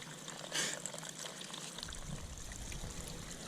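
Fresh cold water from a small Tasmanian waterfall on Mount Pillinger, a steady close splashing and trickling stream that gets heavier partway through.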